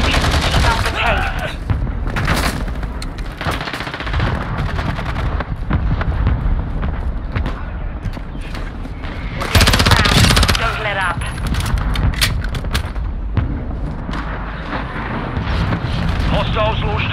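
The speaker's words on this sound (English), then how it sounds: "Mortar strike inbound now." Mortar strike explosions in the video game Call of Duty Modern Warfare boom heavily amid sustained machine-gun fire, with loud rumbling blasts and dense combat noise while voices talk over the battle.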